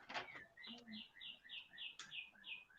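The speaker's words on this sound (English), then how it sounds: "Oh, beautiful bird music." Small birds sing outside a window in a repeated series of short, bright chirping notes at a steady rhythm, fairly close and clear, with a low voice murmuring briefly near the start.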